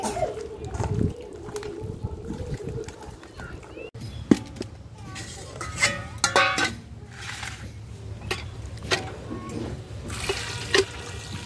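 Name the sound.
washing raw chicken meat with water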